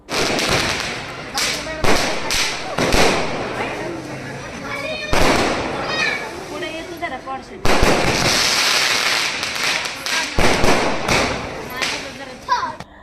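Firecrackers burst at a street welcome for a political leader meeting voters, a rapid string of sharp, loud cracks and pops in clusters with brief pauses, close by, while a voice talks over them.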